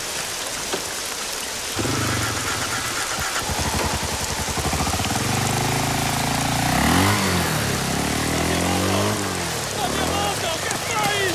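A motorcycle engine starts and rides away in the rain near a shed at a power station, its throttle rising and falling over steady rainfall, with people talking.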